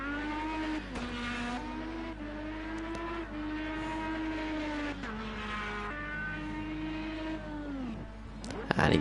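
A virtual IndyCar in a sim race on the Indianapolis road course finishes its lap. A loud, high engine whine rises and falls through repeated gear shifts and holds up close, then cuts off abruptly near the end.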